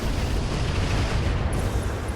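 A mech pilot ejects in the BattleTech game RogueTech, giving a dense, roaring boom-like burst that fills the whole moment at steady loudness, with no voice heard.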